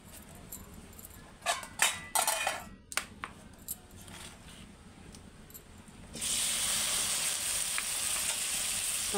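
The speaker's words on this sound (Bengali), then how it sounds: "আলু আর কাঁকরোলগুলো ভেজে নেব" Potatoes and pointed gourd (kakrol) frying in oil in a wok, first clattering taps and scrapes, then a loud steady hissing sizzle taking over.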